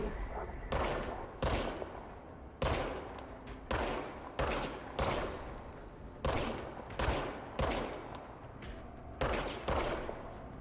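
Repeated loud gunshots in the action video game Control, single heavy blasts or short bursts fired at a steady rhythm roughly every second, each followed by a short decaying echo.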